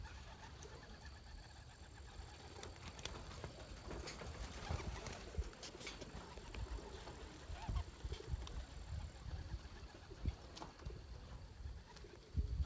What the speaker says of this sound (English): There's a good many of the birds up right now.